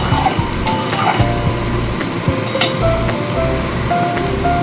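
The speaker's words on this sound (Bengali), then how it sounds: "একদম কম আঁচে আমাকে ধনে পাতাটা কিন্তু কষিয়ে নিতে হবে" Coriander leaves and spices frying on low heat in oil for a green fish curry give a steady, close sizzle with occasional light clinks of a utensil against the pan.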